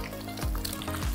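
Egg frying in hot oil with shallots, a steady sizzle broken by the scrape of stirring, close and fairly loud with no voices.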